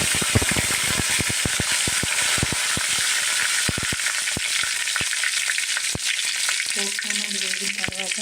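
Mustard seeds, cumin and curry leaves fry in hot oil in a kadai, giving a loud, steady sizzle with frequent sharp crackles and pops close by, early on especially, and no talking.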